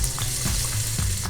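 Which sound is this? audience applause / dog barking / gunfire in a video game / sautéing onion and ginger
sautéing onion and ginger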